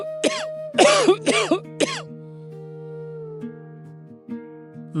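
A man coughs in a few harsh, loud bursts at close range on waking in a hut in the morning, followed by quieter throat sounds over a steady low hum.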